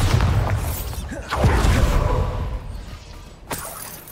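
Spell blasts from Bombarda and Confringo in the game Hogwarts Legacy, loud booming impacts with crackling shatter and whooshing tails, several bursts within a few seconds over dense game noise.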